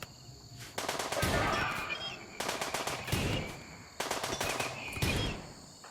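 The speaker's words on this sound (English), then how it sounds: "A heavy barrage of firepower is sent at its metal body with minimal effect." Gunfire in the Rimworld video game comes as three rapid bursts of automatic fire a little over a second apart, each a loud rattling volley with no voices over it.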